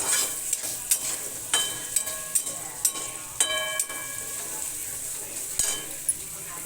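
Onion and tomato fry in a pan with a soft continuous sizzle, punctuated by repeated metallic clinks and scrapes of a utensil stirring against the pan.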